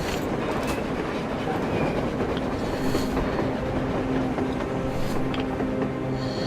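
A train rolls along on the surface in the video game Metro Exodus, a steady, fairly close rumble of wheels and carriages with faint clacking throughout, heard without talk.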